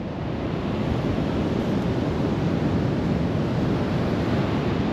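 Ocean waves breaking on a beach at a river mouth, a steady loud broadband wash of surf with wind, no voices.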